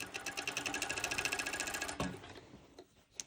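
Industrial cover stitch sewing machine stitching a folded fabric hem on pole bottoms, a close rapid rhythmic whirring for about two seconds before it stops and winds down.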